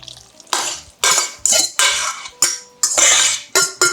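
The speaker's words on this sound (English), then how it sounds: "you're just gonna grab some of it and just mix it together, just on the side like this" Wet and dry vegan pumpkin batter is mixed in a bowl, producing a series of about eight close, loud scraping and clattering strokes of a utensil against the bowl, each starting sharply and fading, with no talk.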